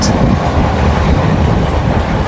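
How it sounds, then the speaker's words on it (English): A train rumbles past at close range, a loud, steady low roar of wheels on rails with a faint rhythmic clatter. "the local train, which is very quaint."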